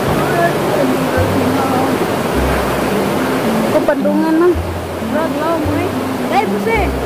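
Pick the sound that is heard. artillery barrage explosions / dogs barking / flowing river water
flowing river water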